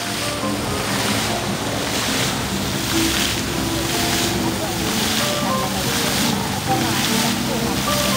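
A dancing water fountain show on the Avenue of the Stars in Hong Kong gives a continuous rushing, splashing wash with wind buffeting the microphone, while crowd voices murmur underneath.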